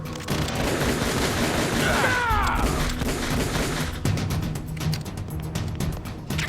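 Gunshots in the stealth game Metal Gear Solid: The Twin Snakes, with dense bursts of fire and booming impacts, loud and close, alongside whistling swoops and a steady game soundscape.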